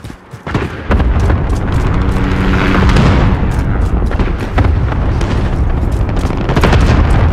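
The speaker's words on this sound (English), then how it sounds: "Cluster strike incoming. Take cover." Cluster strike explosions in Call of Duty Modern Warfare 2019 during a Grazna Raid match, a dense barrage of loud booms and cracks rolling continuously after an opening hit, heavy and close with gunfire mixed in.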